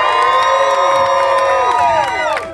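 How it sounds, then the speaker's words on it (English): A seaside beach show crowd in the USA cheers loudly, sustained whoops and shouts, including children's voices, blending into a continuous roar that dips slightly at the end. "Make some noise for the kid, y'all."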